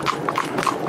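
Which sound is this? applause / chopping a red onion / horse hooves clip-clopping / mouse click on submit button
horse hooves clip-clopping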